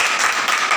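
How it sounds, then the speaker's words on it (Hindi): Brief burst of audience clapping at a seminar on Ayurveda, a dense, steady patter of many hands close by. "एक बार आयुर्वेदा के लिए मैं ताली चाहूँगा।"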